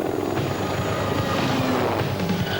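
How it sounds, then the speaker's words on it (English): Helicopter flying, a loud continuous rotor and engine roar that stays steady and close throughout, with no talking. "These days, the skies are alive with the sound of helicopters."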